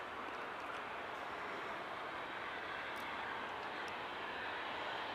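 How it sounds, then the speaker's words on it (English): A Ryanair airliner arriving at Manchester Airport, heard as a steady, distant broadband engine roar that holds evenly throughout with no talk over it. "Ryanair arriving safely."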